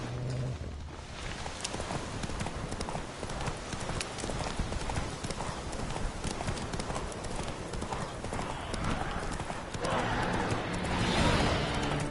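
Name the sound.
hooves of horse Roach in video game The Witcher 3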